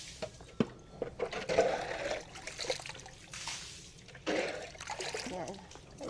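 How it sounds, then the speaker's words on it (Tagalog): Water is poured and splashed out of a container, with trickling and sloshing bursts, while a person talks at low level over it. "tatanggalin natin yung mga tubig dito para nga mapalitan natin ng mas malinis na tubig"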